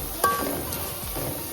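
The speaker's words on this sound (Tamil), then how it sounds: "அதை நல்லா போட்டு கண்ணாடி பதத்துக்கு வதக்குங்க" Onions sizzle steadily in a hot pan while a spoon scrapes and stirs through them, with a sharp metallic clink near the start and another at the very end, no voices.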